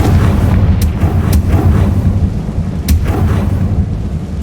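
A Confringo blasting spell explodes in the Hogwarts Legacy video game, making a loud, heavy boom that rolls into a sustained, rumbling roar with a few sharp cracks on top.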